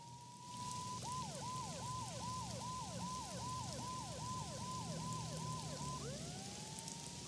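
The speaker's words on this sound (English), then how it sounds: "Mona must have heard the sirens too." Police sirens in the video game Max Payne 2 rise and fall in about a dozen rapid, evenly spaced wail cycles, then one long sweep, all over a steady rain-like hiss with no talking.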